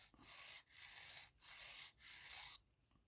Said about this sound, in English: if you're using sandpaper, I'd suggest to glue it to a piece of board so it's nice and flat